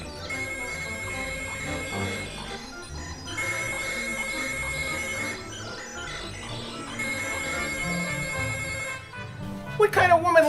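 A cell phone rings in repeated bursts of bright, electronic tones, about three long rings with short gaps, fairly loud over a busy background.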